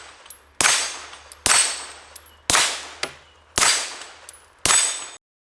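Five sharp, loud suppressed shots from a PSA Dagger pistol firing 124 grain ammunition, spaced about a second apart, each followed by a ringing metallic clang of the round striking a steel target.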